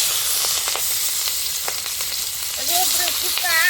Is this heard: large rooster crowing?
no